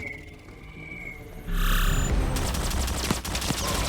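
Gunfire in a scene from the film Allegiant, a burst of loud crackling shots and impacts that swells partway through and stays dense and close, with some faint background sound before it and no speech.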